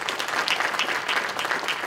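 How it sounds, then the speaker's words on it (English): A brief burst of audience applause at a meeting on primary healthcare and a new regional medical center, many hands clapping in a dense, steady patter. "If we can give her a round of applause."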